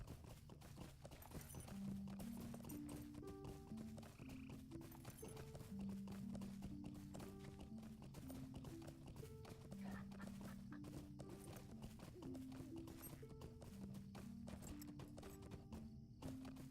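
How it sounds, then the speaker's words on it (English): Horse hooves clip-clopping steadily in the online fantasy game Lord of the Rings Online, a continuous rhythmic trot running under game music and ambient background throughout. "you're having a nice horse"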